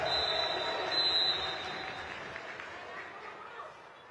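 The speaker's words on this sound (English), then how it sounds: "And there's the applause." Spectators applaud a men's and women's para swimming final at the ASEAN Para Games in Thailand, a broad wash of clapping and crowd noise that is loudest at first and then eases off, with faint chatter throughout.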